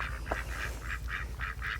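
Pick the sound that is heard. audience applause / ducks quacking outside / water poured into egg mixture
ducks quacking outside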